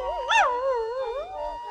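A small dog whimpers and then howls in a rising and falling wail, heard close and alone.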